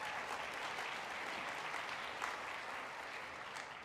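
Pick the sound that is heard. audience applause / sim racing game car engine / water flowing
audience applause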